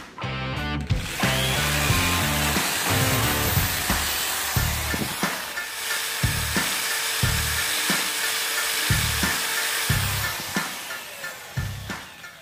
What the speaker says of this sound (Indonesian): Kemudian plat ini kita bor seukuran lubang aspennya atau lubang yang ada di tutup tabung.